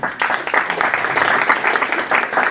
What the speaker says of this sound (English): Give her a round of applause